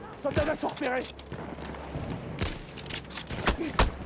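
Gunfire in Battlefield 1 comes in sharp, scattered shots, some close and punchy, others distant, spread irregularly through a noisy battlefield backdrop with someone talking over it.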